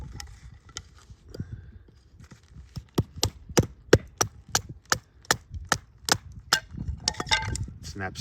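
A knife is batoned through wood, a sharp woody crack landing roughly every half second in a steady close series, with faint rustling between strikes and a quicker cluster of knocks near the end.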